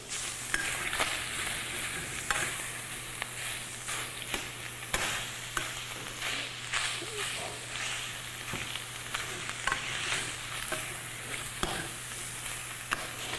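Sausage browns in a pot as the fat base for sweet potato soup, a steady close sizzle and crackle with frequent scraping stirs running throughout, no voices.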